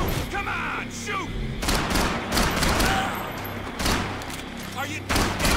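Repeated bursts of gunfire crack out in Max Payne 3, loud and close, in uneven volleys spread across a few seconds, with shouting voices mixed in.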